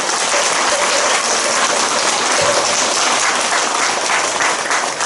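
Audience at a Buddhist dharma talk breaking into applause, a dense, loud wash of many hands clapping that holds steady for five seconds without any speech over it.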